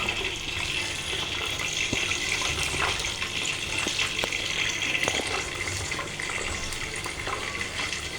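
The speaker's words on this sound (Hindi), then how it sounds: "थोड़ा सा पानी डालेंगे।" Water poured into a pan of potatoes while cooking at home, a continuous splashing and trickling with a few small knocks, steady and close.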